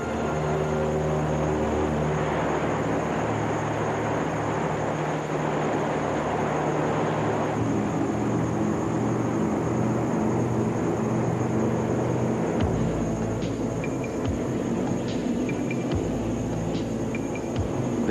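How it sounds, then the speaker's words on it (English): A steady, droning engine hum from a PBY-5A amphibious aircraft holds throughout, loud and continuous, with a rougher shift partway through. "This is the PBY-5A, the fifth version of this versatile aircraft."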